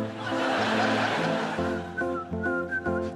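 A cheerful TV and radio advert jingle with a whistled melody over twinkly bell tones and a bouncy backing, played loud and up front with no talking.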